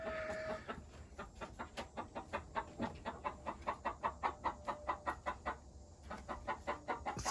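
Meat chickens cluck in a steady, rhythmic run of short, evenly spaced clucks, nearby and moderately quiet, with a brief pause near the end and no talk.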